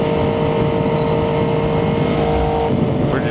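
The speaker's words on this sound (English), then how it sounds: "you can hear the exhaust. It sounds good." Triumph 675SS sport motorcycle with a full IXIL exhaust, a loud close engine note held high and steady like sustained revving, with a brief shift near the end and no talk.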